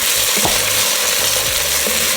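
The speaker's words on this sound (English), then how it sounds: "make sure y'all always scraping this bottom. See that? Get all those brown bits up" A utensil scrapes browned bits off the bottom of a soup pot for French onion beef short rib soup, a few rasping strokes over a loud, steady sizzle.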